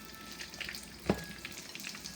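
Salt fish accra fritters frying in oil for a Trinidad snack, a soft steady sizzle with scattered crackles and one sharper pop midway, close and fairly quiet with no talk.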